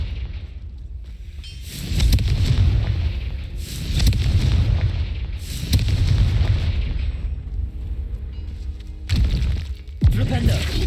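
Fire-blast spells explode repeatedly in a fantasy video game, several heavy booms spaced every couple of seconds, loud and close, with crackling bursts and brief spoken game dialogue between them.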